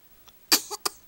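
A person sneezes: a soft intake, then one sharp explosive burst and a short second burst close to the microphone.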